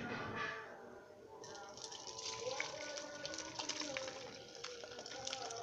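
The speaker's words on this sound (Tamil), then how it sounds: "காட்டன் துணியை எடுத்து இந்த மாதிரி வச்சுக்கிட்டு நம்ம இதை வடிகட்டிடலாம்." Liquid whey running and splashing as curdled milk is strained through a cotton cloth for homemade paneer, a steady close trickle and gush with some faint clinks.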